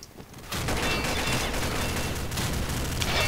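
A Legion minigun fires in the video game Combat Arms, with a short quiet lead-in before a sustained, rapid, unbroken burst of gunfire that stays loud and close to the end.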